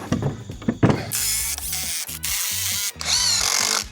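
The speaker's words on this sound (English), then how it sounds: "I get my screws started on here first." Power drill driving screws into the wooden frame of a simple outdoor chair: a few short clicks and taps, then close, loud whirring runs that rise and cut off as each screw seats, without talk.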